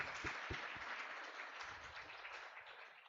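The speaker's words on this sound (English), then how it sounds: "Can we bring in some applause?" An audience at a company stock listing ceremony applauding, with many hands clapping in a dense, steady patter that gradually thins toward the end, with no voices.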